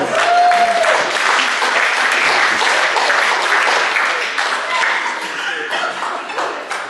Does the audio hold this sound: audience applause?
yes